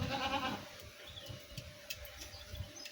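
A baby goat gives a short bleat near the start, fairly faint over quiet outdoor background with scattered soft knocks and rustles afterward.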